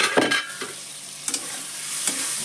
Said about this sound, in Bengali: সমস্ত মশলা দিয়ে ওলের ডাঁটা ভাজা হয়ে গেছে